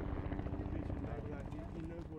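A search helicopter flies over during a recovery operation, its steady rotor drone continuous and moderately loud beneath narration.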